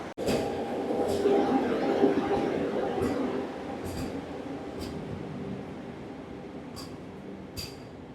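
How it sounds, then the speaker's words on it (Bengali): A Howrah–Kamakhya Vande Bharat Sleeper Express rumbles out of New Jalpaiguri station platform 1 at night at steady volume, with occasional sharp clicks and squeals from the wheels as it gradually pulls away. "এনজিপির 1 নম্বর প্ল্যাটফর্ম থেকে বেরিয়ে যাচ্ছে হাওড়া কামাখ্যা বন্দে ভারত স্লিপার এক্সপ্রেস"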